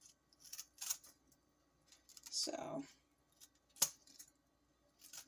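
Scissors snip into the tough husk of a mango seed, giving a few sharp, close clicks and crunches spread unevenly through the moment, with a short spoken word in between.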